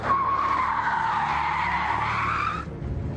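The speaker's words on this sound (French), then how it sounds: "je pile, je fais marche arrière et demi-tour." Armoured Peugeot 605, 2.3 tonnes, braking hard during security driver training: a loud, sustained tyre squeal over engine noise for about two and a half seconds, ending abruptly into a low engine rumble.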